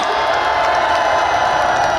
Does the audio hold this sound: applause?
yes